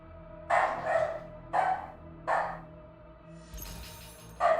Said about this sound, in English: Oh, my dog's barking again.